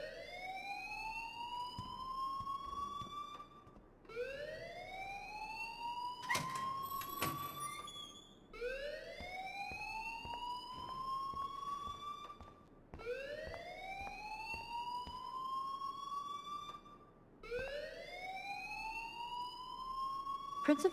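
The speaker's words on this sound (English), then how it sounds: "please turn off that alarm since that's your job" A school alarm in the video game Life is Strange rings as a loud siren-like wail, each tone sweeping upward and dropping back, repeating about every four seconds for five cycles with no talk.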